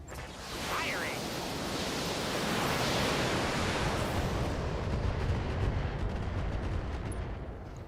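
In BattleTech, a mech's weapons open up in a broad, sustained roaring barrage of cannon and missile fire that swells and holds for several seconds, heavy, noisy and close, with a voice faintly beneath.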